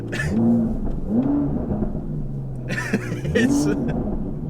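An Aston Martin DBS engine revs three times in quick rising swells, loud and close, with voices talking over and between the revs.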